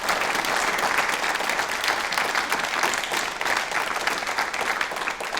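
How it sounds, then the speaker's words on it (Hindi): An audience at a televised yoga talk show breaks into sustained applause, a dense steady wash of many hands clapping throughout, with no speech over it. "एक बार इस बात के लिए तालियां बजाइए प्लीज।"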